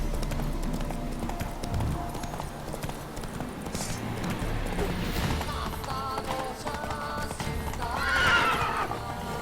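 Roach, Geralt's horse in the video game The Witcher 3, whinnies loudly near the end over steady clip-clopping hooves, with in-game music and ambience underneath throughout.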